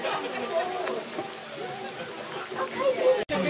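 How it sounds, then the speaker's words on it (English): Light rain patters steadily under a shelter in Saint Pardoux, a soft continuous hiss with scattered drops, faint voices in the background. "Oh, it's raining under this bit."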